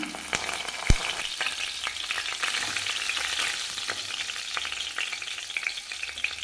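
Steady sizzling and crackling of fennel seeds and curry leaves frying in hot oil for eggplant gravy, with occasional stirring clatter and a sharp tap near the start; no talking.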